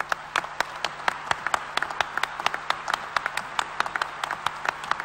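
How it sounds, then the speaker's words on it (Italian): An audience at a national assembly of the Compagnia delle Opere claps steadily for a departing guest, with sharp, closely spaced hand claps in a fairly even rhythm that fill the room for several seconds without any voices. "la salutiamo con un grande applauso"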